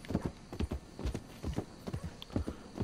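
Horse hooves clip-clop in the video game Red Dead Redemption 2, a steady rhythmic trot of soft, fairly quiet hoofbeats, with no one talking over them.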